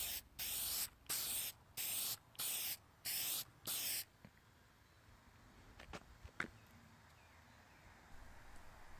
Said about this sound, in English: Next, I tried a clear acrylic spray